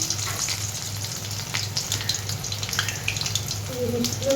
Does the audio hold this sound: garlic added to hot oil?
yes